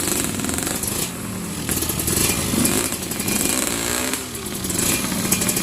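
Motorcycle engine revving hard on a mountain trail at Mt. Maarat, loud and close with rough, pulsing bursts of throttle and no talk.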